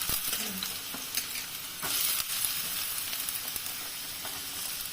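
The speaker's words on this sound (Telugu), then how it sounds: "వేడెక్కిందండి, ఉల్లిపాయలు వేస్తున్నాం." Chopped onions sizzle and crackle steadily in hot groundnut oil, a dense, continuous frying hiss with occasional sharper pops and stirring scrapes, close and fairly loud throughout, with no voices.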